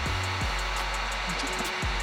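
A heat gun blowing hot air onto a rifle grip skin, a steady close whooshing roar with a low motor hum, briefly dipping and resuming twice, no speech.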